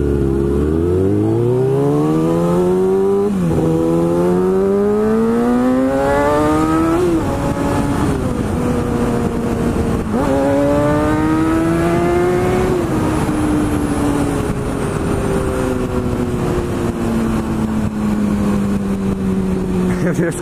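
Motorcycle racing another vehicle through city streets, the engine close and loud as it climbs through repeated rising pulls between gear shifts, with a rider talking over it.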